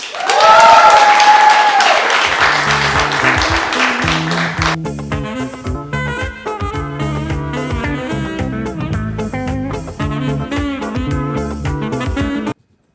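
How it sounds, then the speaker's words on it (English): Audience at a children's poetry reading gives a young poet a loud, full round of applause with a few raised voices mixed in, tapering after about five seconds as keyboard music takes over and plays on alone. "Let's give her a round of applause."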